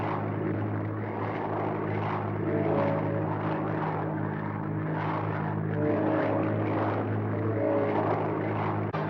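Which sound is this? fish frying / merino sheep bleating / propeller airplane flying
propeller airplane flying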